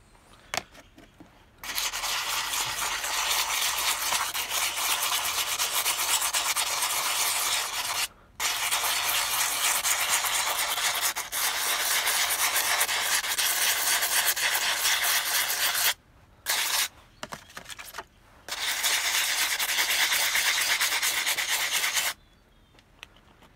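Wet and dry sandpaper rubs rapidly over an ammonite fossil in long continuous bursts of scratchy sanding, close and loud, broken by a few brief pauses.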